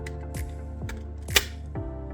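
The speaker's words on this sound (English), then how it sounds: "And you click it into place like this" A PS5 DualSense controller's bottom cover snaps into place over the triggers with several sharp plastic clicks spaced evenly, one louder snap standing out, close to the microphone with no talking.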